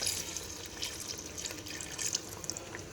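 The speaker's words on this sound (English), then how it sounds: "So the next thing to insert is our milk." Milk poured into a bright red mutton biryani paste, a steady close splashing trickle of liquid lasting throughout with no voices.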